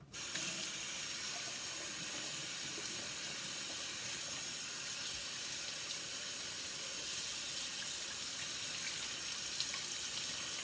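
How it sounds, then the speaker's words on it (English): Cold tap water runs over a slab of home-cured bacon in a kitchen sink, a steady continuous hissing stream lasting throughout with no voices. "I'm gonna wash this bacon off with cold water."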